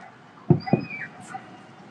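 Two short yips from a puppy, close together, then faint high whimpering noises against quiet background hiss, during New Year fireworks in Ho Chi Minh City.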